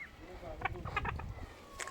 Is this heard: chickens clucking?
yes